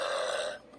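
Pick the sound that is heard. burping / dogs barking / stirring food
burping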